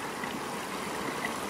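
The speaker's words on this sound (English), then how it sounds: "this stream feeds into the water sources all the way down this canyon" Mountain stream running down a canyon, a steady broadband rush of flowing water heard up close, even and unbroken with no voices.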